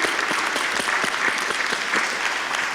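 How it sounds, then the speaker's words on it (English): Audience at a city budget open house for the FY19 budget applauds steadily, a dense, continuous clapping of many hands lasting throughout without pause. "And I think we want to applaud them"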